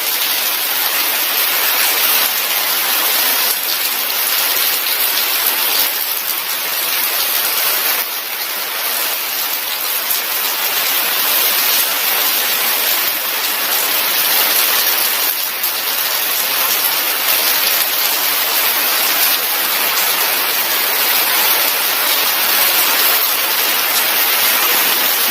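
Heavy rain pours down in Palau as a loud, dense, unbroken hiss that holds steady and fills the whole stretch, with no voices.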